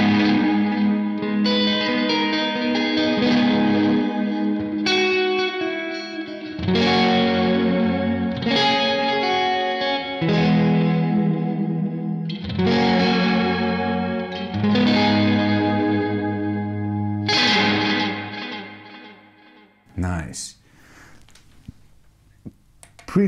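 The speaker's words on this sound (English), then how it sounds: "delay preset number two, where I have a tape delay and a room reverb," Electric guitar played through a Source Audio Collider pedal set to tape delay with room reverb, chords ringing with repeating echoes and a lingering wash, fairly loud and steady, ending in brief handling noise.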